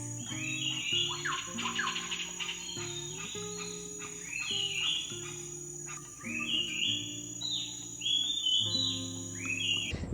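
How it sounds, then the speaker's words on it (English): Several birds chirp and trill in repeated phrases over a steady high insect whine, with a low droning hum underneath, fairly quiet and outdoors in the jungle of Tanjung Puting, Borneo. "We're just enjoying some coffee and listening to the birds."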